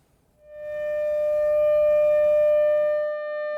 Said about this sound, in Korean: 추모 사이렌이 울리고 다 함께 고개를 숙여 묵념을 합니다